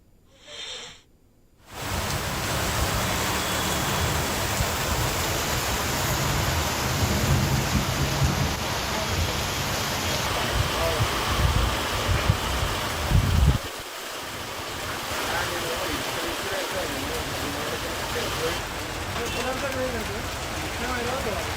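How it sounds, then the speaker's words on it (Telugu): Heavy rain with thunder pours down in Hyderabad in a dense, steady roar with deep rumbling underneath, starting abruptly after a brief quiet moment. "హైదరాబాద్లో భారీ వర్షాలు పడుతూ ఉన్నాయి"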